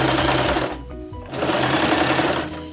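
A sewing machine runs steadily, stitching a seam on a homemade couch cushion, with a brief pause near the middle before the motor whirs on again, close and loud with no talking.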